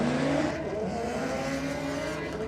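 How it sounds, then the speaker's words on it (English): A drag-racing car launches at a race track, its engine a loud, sustained roar that holds steady across the whole stretch, close and unbroken. "Not a bad launch for Humble."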